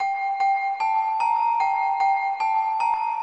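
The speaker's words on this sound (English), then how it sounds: "putting it into another Purity plugin called Celesta" Celesta from the Purity software instrument plays a steady run of bright, bell-like notes, each struck about every 0.4 seconds with a ringing tone that sustains between hits, heard alone without any voices.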